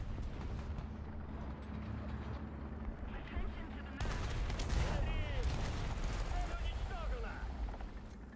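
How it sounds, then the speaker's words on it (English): Gunfire sounds in a video game, with rapid bursts of shots blending into a dense, rumbling mix that grows louder partway through. A player talks over the action. "I think I just got shot at."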